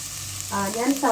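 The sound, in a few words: onions frying in hot oil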